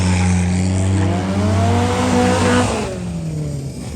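A Nissan Silvia S15 drifting, its engine revving hard and loud throughout, with the pitch rising and falling and a sharp drop in revs near the end.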